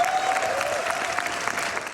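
A cinema audience gives a standing ovation after a film screening, with dense continuous clapping and crowd noise, fairly loud and sustained before cutting off.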